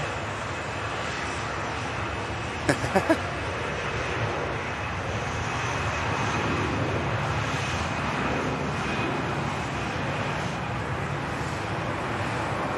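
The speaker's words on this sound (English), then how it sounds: "Off goes the Lufthansa, rolling down 2-3 left, heading off to Munich to Airbus A320" A Lufthansa Airbus A320 rolls down runway 23 left at Manchester Airport on its takeoff run toward Munich, a continuous heavy jet roar that swells slightly near the end, with a brief cluster of sharp clicks early on.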